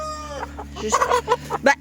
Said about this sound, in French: on a aussi nos 2 poulettes